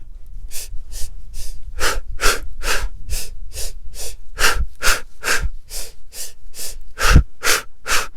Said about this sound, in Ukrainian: Починайте дихати 3 на 3.